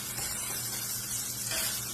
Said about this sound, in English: preheated skillet, okay, medium-high heat works best. And you're just going to put your onions in.